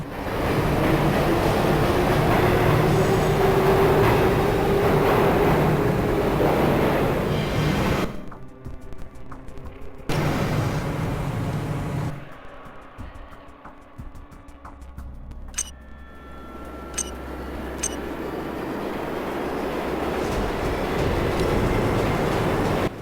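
A subway train rumbles through a dark, dirty tunnel in the video game Spider-Man: Amazing Allies, a loud sustained roar that cuts out briefly and then swells back up, with no voices.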